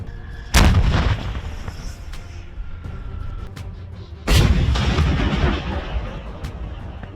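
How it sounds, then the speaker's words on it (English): Two heavy, sharp blasts ring out several seconds apart as a Russian tank's ammunition detonates in the Ukraine conflict, each burst followed by a lingering rumbling tail, loud and at some distance. "The vehicle can be seen detonating again after ammunition detonates, Zudosi notes."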